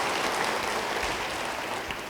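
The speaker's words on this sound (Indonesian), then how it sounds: "Beri tepuk tangan bagi dia." A church congregation applauding during a sermon, dense continuous clapping that stays loud and full for the whole stretch and fades slightly at the end.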